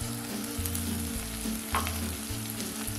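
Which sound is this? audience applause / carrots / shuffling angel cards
carrots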